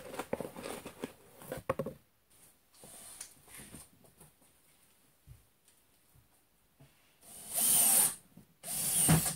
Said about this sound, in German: Das werde ich jetzt noch eben schnell verschrauben.